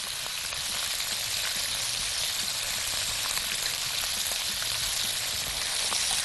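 Ground meat sizzles and fries steadily in a pan while being stirred, a loud, even crackle without pause.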